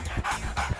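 A dog panting close up, rhythmic breathy huffs in quick succession, loud and alone.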